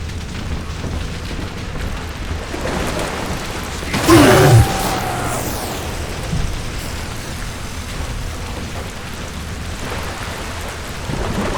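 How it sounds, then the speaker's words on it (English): Steady rain falls through the underwater city of Rapture in BioShock 2 Remastered, a constant hiss with a low rumble of thunder swelling briefly in the middle, no voices over it. "It is raining in Rapture"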